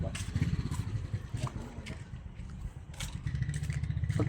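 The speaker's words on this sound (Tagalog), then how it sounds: "So ayan. Buksan natin makina." A car engine idles with a rough, pulsing rumble after a new radiator hose install during coolant bleeding, accompanied by scattered clanks and rattles nearby.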